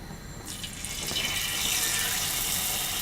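Marinated cauliflower hits hot oil in a pan and sizzles into a steady, close hiss that builds and stays loud.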